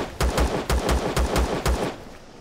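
Rapid bursts of sci-fi gunfire in the space survival game Empyrion, about eight loud, evenly spaced shots in quick succession before cutting off into quiet.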